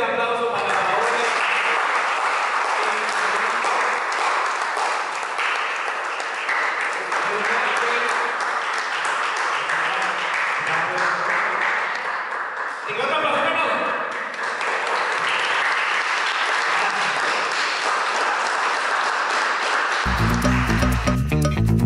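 A cultural festival audience applauds and cheers in a steady, loud wash of clapping and crowd noise that lasts about twenty seconds. A brief electronic tone sounds at the very end.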